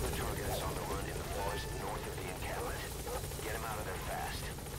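Helicopter rotor chopping steadily in Metal Gear Solid V: The Phantom Pain, a continuous loud drone under excited talk.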